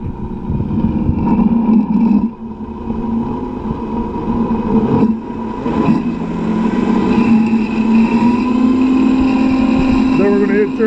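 A blender running on high whirs through almond nut juice, a loud, steady motor roar with a whining tone that holds close for the whole stretch.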